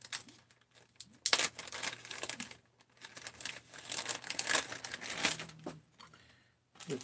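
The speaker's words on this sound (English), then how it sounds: "going to throw this right into a plastic bag." A plastic bag crinkles and rustles close by as an oiled engine part, a piston with its wrist pin and bearing, is slipped inside, with steady handling noise and a few sharper crackles.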